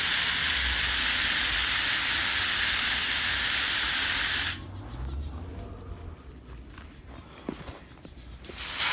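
Water poured from a watering can into a potted plant outdoors, a steady broadband rush for about four and a half seconds, then cutting off to quiet ambience with small drips and rustles.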